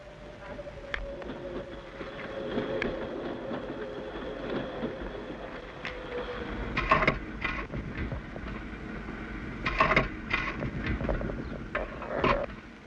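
Steam locomotive 4472 running on the railway, a faint, rough rolling rumble with wind noise and scattered clanks and bursts, heard from a distance in an old-style recording.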